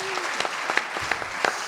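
Audience clapping at a Hindi poetry gathering (kavi sammelan) at the Khadkhadi Mahotsav in Hapur, scattered and uneven claps in a steady patter, moderately loud, with faint voices underneath.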